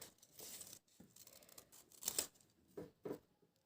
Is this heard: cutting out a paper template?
yes